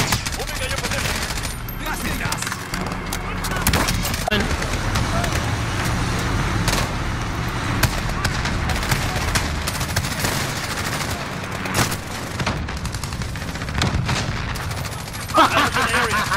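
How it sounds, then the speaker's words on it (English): Modern Warfare gameplay with dense, continuous gunfire and rapid bursts layered with explosive booms, loud and close throughout, plus a sharper blast near the end; players talk over the action. "I got him with a grenade launcher"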